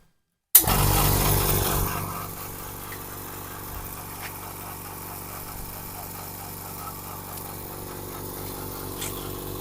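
A steady oil-free air compressor motor hum with a low engine-like drone, starting abruptly after a brief silence and running continuously at moderate loudness.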